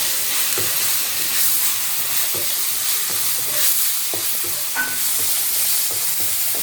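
Tomatoes sizzle and hiss in a pan while frying for an oyster mushroom kulambu, a steady close sizzle broken by soft stirring taps, no talk.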